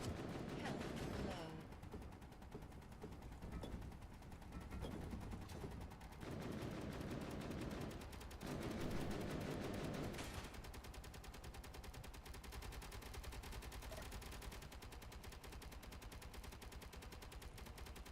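Automated turrets firing in the survival game Space Engineers, a steady, continuous rattle of rapid gunfire and machine-gun bursts that runs throughout, fairly faint, with shifts in intensity.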